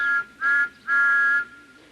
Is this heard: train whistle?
yes